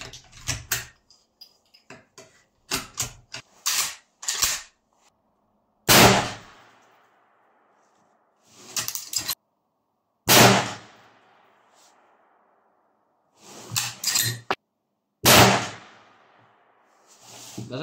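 .45-70 rifle shots ring out as loud, sharp reports spaced several seconds apart, each followed by a brief decaying echo, with quiet gaps between them and no talking.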